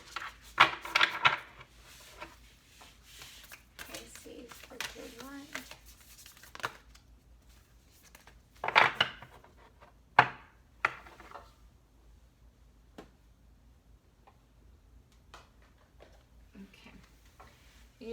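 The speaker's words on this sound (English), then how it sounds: "This will be our last shuffle." Tarot cards are shuffled by hand in short crisp riffles and slaps, soft and close, scattered between stretches of talk.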